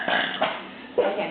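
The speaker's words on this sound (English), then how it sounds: "we got that burp on video" A person lets out a loud, close burp in several rough, croaking surges, each swelling and trailing off over about a second and a half.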